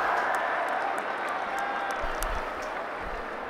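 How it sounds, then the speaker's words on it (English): Spectators applaud at a Pakistan vs England Test cricket match, a steady wash of distant clapping from the stands holding at an even level for several seconds. "applauded the chase from Potts"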